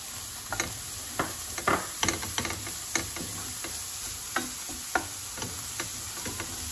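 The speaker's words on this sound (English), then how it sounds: "put your onions in and start cooking them off" Onions cooking in a pan left with steak drippings after searing, giving a steady soft sizzle broken by irregular scraping and stirring clicks, close and alone.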